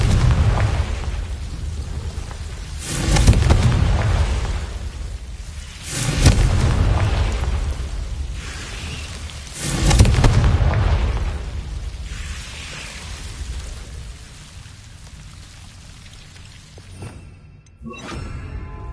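Confringo explosion spells are cast repeatedly in Hogwarts Legacy, with three loud booming blasts spaced a few seconds apart, each trailing off into a rumbling decay over a steady low background.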